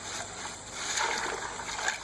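Ice water poured into a bucket for an Ice Bucket Challenge, a steady splashing, trickling pour at close range that swells slightly midway, with no talking over it.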